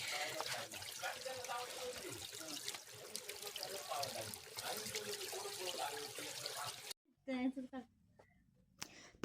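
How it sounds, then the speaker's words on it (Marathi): A small stream trickles and flows in Sandhan Valley, a soft continuous water sound under a person talking, cutting off near the end. "इथे आपला छोटासा झरा वाहत आहे मस्तपैकी"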